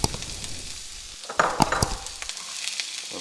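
Chopped white and red onions hit hot olive oil in a pan and sizzle steadily up close, with a few stirring scrapes partway through.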